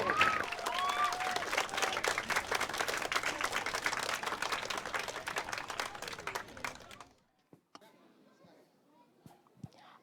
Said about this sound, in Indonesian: Langsung aja kita kasih tepuk tangan meriah untuk Ashley.